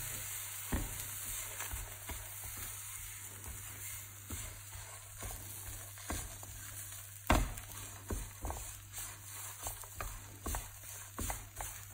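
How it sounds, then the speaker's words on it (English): Masala stirred in a pan over a low flame for stuffed jalapeno chillies, giving a steady soft sizzle broken by repeated scraping strokes of the spoon, close and moderately quiet, with a steady hum underneath and no talking. "make sure keep stirring on low flame now"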